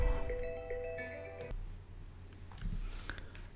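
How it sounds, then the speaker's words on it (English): A phone ringtone for an incoming call plays as a bright repeating electronic melody for about a second and a half, then cuts off, leaving faint room noise with soft handling sounds. "so little phone call, sorry about that"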